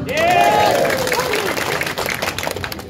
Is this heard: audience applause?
yes